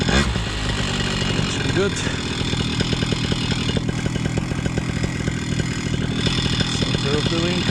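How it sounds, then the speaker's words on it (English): A paramotor engine runs close by with a dense, buzzy drone and rapid pulsing, loud and steady throughout, while someone speaks briefly over it. "I decided to create a slight breeze with my motor anyway"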